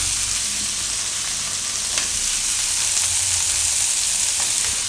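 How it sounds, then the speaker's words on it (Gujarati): Soaked cashews drop into gravy pasta frying in a pan, giving a steady, loud close-up sizzle with faint stirring scrapes and no talk. "આમાં આપણે હવે કાજુ નાખી દઈશું પલાળેલા"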